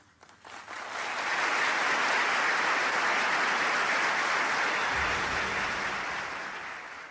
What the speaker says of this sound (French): Le tonnerre d'applaudissements qui salue le discours d'Arafat